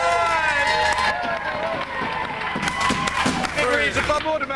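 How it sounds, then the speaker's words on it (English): A studio audience on a live Saturday-morning TV show claps and cheers in a dense, continuous wash, with a voice and some music mixed in underneath. "Big round of applause!"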